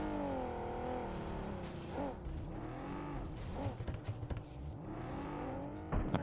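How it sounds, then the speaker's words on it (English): A struggling car engine in the PUBG Mobile video game labors and revs unevenly, pitch rising and sagging in repeated sweeps, with brief bumps and scrapes near the end, loud and without talk. "That car sounds very unhealthy."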